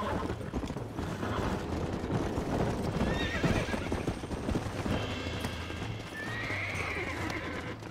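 Rapid clip-clop of a horse galloping in a video game, with whinnies and neighs rising over steady hoofbeats that run throughout, loud and close with a busy game soundscape underneath.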